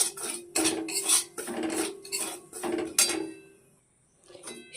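Semolina dry-roasted in a pan at home, a metal spoon scraping and clinking against the pan in repeated uneven strokes, close and fairly loud, ending in a brief quiet spell.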